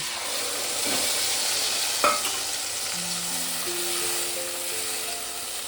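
Yogurt-marinated spice mix hitting hot oil with fried green chillies, a loud close sizzle that swells after a sharp clatter as it goes in, then hisses steadily without talk.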